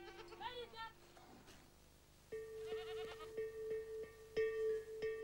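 A herd of goats bleating, several overlapping wavering calls near and far, repeated across the scene with a narrator speaking quietly beneath them.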